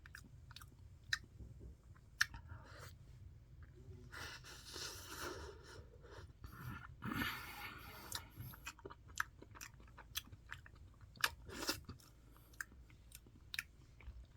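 Someone eats a Bravo vanilla light ice cream cone, close-up soft crunching and chewing with irregular bites and breathing, no talking.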